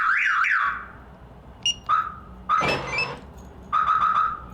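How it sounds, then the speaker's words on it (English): Alarm on a Jeep Cherokee sounds after a door is opened, a loud nearby warble followed by short intermittent chirps and bursts, with a car-door thunk partway through. "I open it much more and the alarm's gonna go off."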